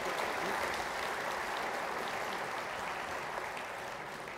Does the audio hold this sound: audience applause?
yes